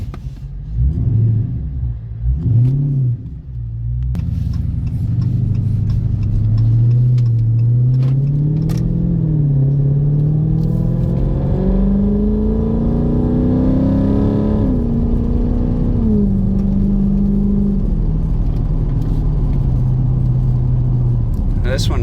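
A red 2018 Dodge Daytona 392 accelerates hard, its engine climbing steadily in pitch through the gears as a loud, close rumble with a shift partway through, after a brief voice at the start.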